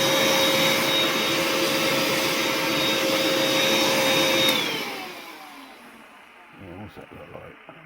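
An air blower blasting dust off a Bassett-Lowke model locomotive being restored, a loud steady whining rush that cuts off and winds down about halfway through, while someone talks over it.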